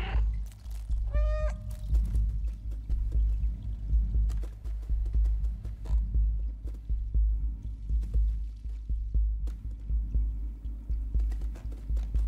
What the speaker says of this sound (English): Meow at the camera.